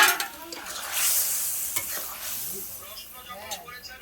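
Katla fish pieces dropped into a boiling mustard-oil curry and stirred, with a sharp splash and sizzle, then scraping spoon strokes and bubbling simmer close by.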